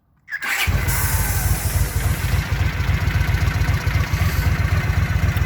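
A motorcycle engine fitted with CX carburetors, only slightly warmed up, fires on the first press and settles straight into a steady, loud, even idle that is heard alone and up close.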